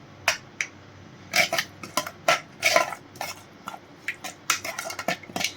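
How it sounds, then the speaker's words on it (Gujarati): Yogurt mixed with spices in a pot, close by, heard as a string of sharp metallic spoon clinks and scrapes against the pot, irregular and spaced out, with no talking. "તો આમાં બધું દહીં એડ કરીને એકદમ સરસ આ દહીંને મસાલા સાથે મિક્સ કરી દેવાનું છે"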